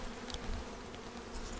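Honeybees hum in an opened hive frame full of brood, young bees chewing out of their cells, a steady close buzz with a few brief higher whines drifting past.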